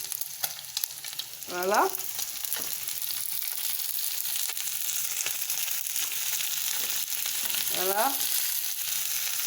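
Sorrel sizzling and frying in a pan with canned sardines, a steady crackling hiss throughout, with someone speaking briefly twice over it.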